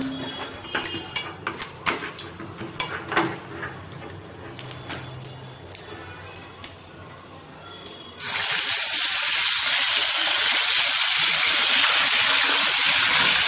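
Pabda fish, rubbed with salt and turmeric, frying in hot oil as a loud, steady sizzle and crackle that bursts in abruptly after quieter kitchen clatter and water sounds.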